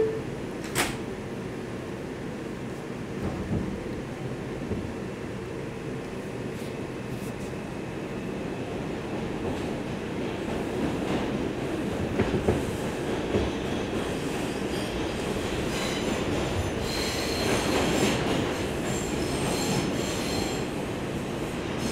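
A New York City 4 subway train in the Bronx rumbles steadily along the tracks, with wheels screeching and metallic squeals rising toward the end, continuous and fairly close.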